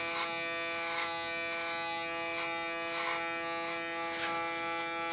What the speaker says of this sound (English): I use my clipper again as a comb.